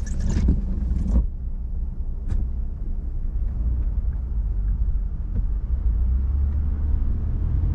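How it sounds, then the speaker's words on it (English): Close, steady low road rumble fills the inside of a car driving through Vancouver traffic. A couple of brief clicks and knocks come early, then the engine and tyre drone carries on unbroken. "There's always traffic in this area."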